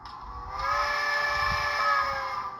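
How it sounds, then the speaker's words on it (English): An HO scale model steam locomotive sounds a single long whistle, blowing steadily for about two seconds, a bright, sustained tone with a breathy edge, fairly close. "Long whistle."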